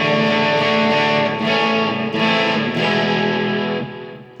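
Epiphone Special II electric guitar played through a fuzz pedal along with delay and reverb, giving a loud, gritty distorted chord that rings out and decays over several seconds.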